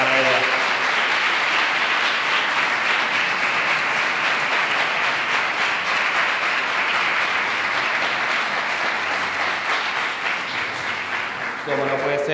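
An audience gives a loud, dense round of applause at a Three Kings coronation ceremony in Maribáñez, sustained for about twelve seconds, with a voice briefly heard at the start and end.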